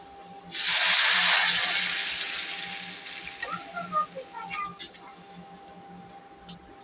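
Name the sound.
lentils poured into hot oil with fried garlic and onion, sizzling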